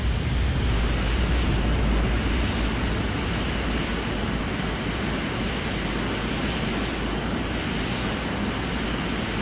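Airliner jet engines roar steadily and loudly after landing, with reverse thrust in Microsoft Flight Simulator X, a dense continuous rumble that eases slightly after the first couple of seconds.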